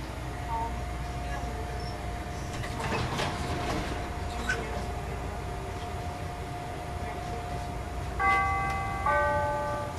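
Steady rumble of a Chicago CTA Brown Line elevated train rolling along, with clanks and rattles midway and a chiming tone signal near the end.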